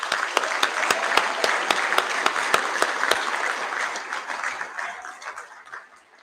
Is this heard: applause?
yes